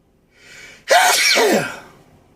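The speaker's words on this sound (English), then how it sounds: "Yes, that was a sneeze." A single loud, sharp sneeze preceded by a brief breathy intake, close to the listener, with no talking.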